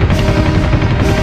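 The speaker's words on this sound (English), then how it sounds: "Machine gun." Machine gun fire from the video game Army Men: Air Attack 2 in a loud, dense burst of rapid shots lasting about a second, heard alone.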